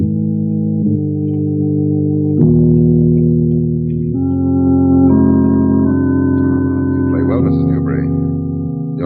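Strange, unnamed organ music played in sustained chords, several shifting harmonies held for seconds each, loud and steady with no talking.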